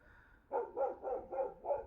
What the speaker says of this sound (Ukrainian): Ще собаки ці тявкають постійно.